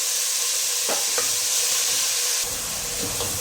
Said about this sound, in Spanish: Acá he puesto a calentar la olla con aceite. Ponemos la cebolla, casi toda la cebolla. Vemos que vaya sofriendo.